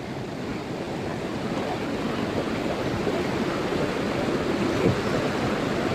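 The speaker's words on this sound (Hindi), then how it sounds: "कलकत्ता में इतना बुरा नदी आ रहा है देखो" A swollen river rushes below a hanging bridge in Kalaktang, a dense, unbroken roar of churning water with wind buffeting the microphone, loud and steady throughout with no voices.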